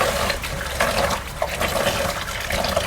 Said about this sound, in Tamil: இப்போ வந்து வெந்தயத்தை வந்து அலச போகிறாங்க.